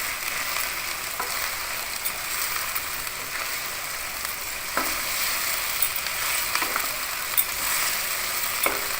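Ginger garlic paste frying and being stirred in a pan while cooking Lahori murgh chanay, a steady close sizzle with occasional scraping stir clicks throughout, no talking.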